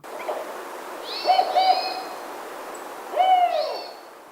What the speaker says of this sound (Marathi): विणीच्या हंगामात ही घुबडं एकमेकांना विशिष्ट आवाज काढून बोलावतात